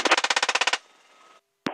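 GAU-21 machine gun on a UH-1Y Huey helicopter firing a rapid burst of about a dozen loud, close shots, followed by a brief rumbling tail, silence, then the start of another burst.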